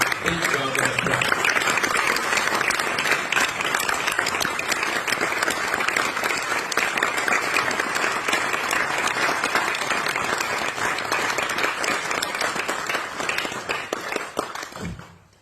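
Sustained audience applause at a Carnatic music tribute concert honouring Guru Karaikudi Mani at Monash University, dense steady clapping from a large hall crowd lasting about fifteen seconds before tapering off at the end.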